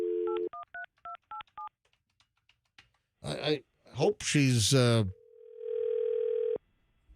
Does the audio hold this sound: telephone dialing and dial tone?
yes